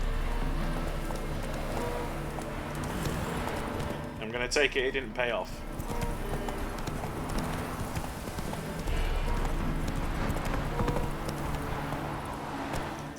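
Horse hooves clip-clopping in a steady galloping rhythm in The Witcher 3, continuous through the clip, with a short whinny partway and someone talking over it.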